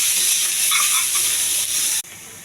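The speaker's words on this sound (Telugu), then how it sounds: "కొంచెం కరివేపాకు, కొద్దిగా జీలకర్ర, కొన్ని ఆవాలు. ఇవి కొంచెం దోరగా వేగించాలండి." Curry leaves, cumin and mustard seeds frying in hot oil, giving a loud, close, continuous sizzle with faint popping that drops off sharply near the end.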